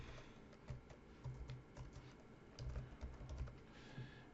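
Fingers tap out a short entry on a computer keyboard, quick irregular bursts of soft clicks with brief pauses, close and quiet, with no talk.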